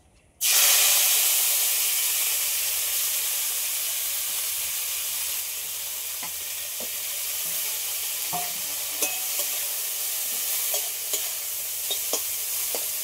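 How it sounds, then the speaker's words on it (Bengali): Neem flowers frying in hot oil in a pan with potatoes and turmeric, a loud burst of sizzling as they go in, then steady hissing with occasional stirring clicks. "এবার আমি এই ফুলগুলো ভেজে নেব।"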